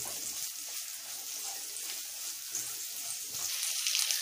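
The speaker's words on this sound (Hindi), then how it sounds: "ये जो प्याज हमने चॉप्ड किया हुआ था इसको ऐड करके अच्छी तरह से फ्राई" Chopped onion frying in a pan gives off a soft, even sizzle that grows slightly louder toward the end, with no voices.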